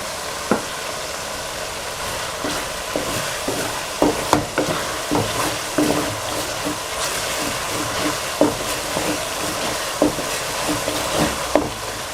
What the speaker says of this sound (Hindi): चम्मच साथ साथ चलाते जाना ताकि नीचे ये जले ना।